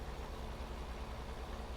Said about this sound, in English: Looks like the tractor can pull it.